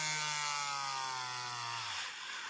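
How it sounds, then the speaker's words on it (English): Dremel rotary tool on low speed drilling a hole in a plastic toy, a steady high whine with a bright harmonic tone that gradually drops in pitch before fading into a coarser grinding near the end. "you are just going to turn the drill on low"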